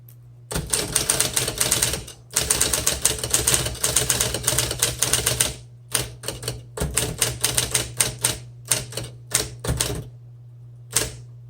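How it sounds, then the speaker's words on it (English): A 1958 Smith Corona Electric typewriter types in fast, crisp bursts of keystrokes, loud and close, with a steady motor hum underneath and short pauses between runs of typing. "Okay, this types very well. This makes me want to keep typing. It's a great typewriter."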